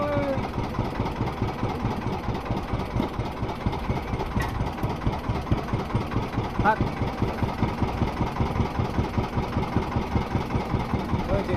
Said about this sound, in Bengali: সামনে বোটটা যাচ্ছে, জালের লোক